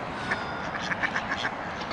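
A duck quacks in a quick series of short, nasal calls, several in a row, close by over faint background noise.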